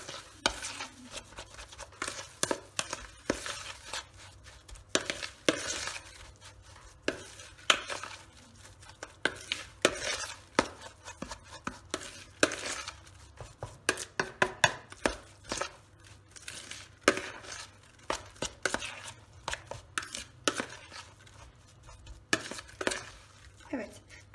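A meatless çiğ köfte mixture of bulgur, hot water and salt being mixed and kneaded by hand, giving irregular wet squelches, slaps and knocks against a bowl over a long stretch, with occasional brief talk.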